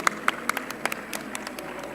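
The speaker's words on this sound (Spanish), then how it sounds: "le damos un aplauso a Ari por estar con nosotros en este panel" Scattered clapping from a small audience at an education congress panel, a handful of distinct sharp claps near the start thinning into lighter, sparser hand claps over a steady background hum.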